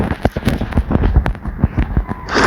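Gunfire from a modded video game weapon, a rapid string of sharp cracking shots played loud and close, dense and irregular for a couple of seconds with no talking.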